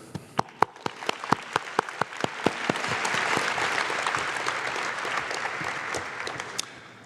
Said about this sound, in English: I would like to take a moment for this year's class to applaud our village